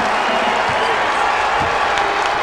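A home crowd at a Temple versus La Salle college basketball game in a civic center roars steadily with cheers and applause, a dense, loud wash of noise sustained throughout.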